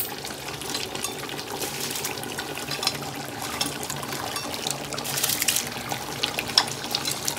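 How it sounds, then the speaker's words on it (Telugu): Soaked rice for chicken dum biryani pours into boiling water, a continuous close splashing and hissing rush that swells toward the end, with no talk over it. "రైస్ మంచిగా 1/2 అవర్ నానిని మంచిగా కాగిన ఎసురులో వేసేసుకుందాం"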